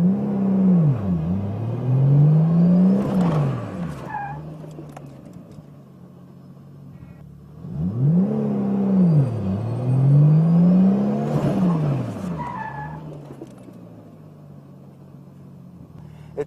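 Car drifting using clutch and handbrake, two passes each with a loud engine rev swelling, dipping and rising again, followed by fading running noise between the runs.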